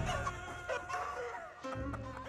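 Chickens clucking amid the chaos of a TABS battle between the Chicken Man and the Super Peasant, a steady layer of bird calls over game noise, with no talk.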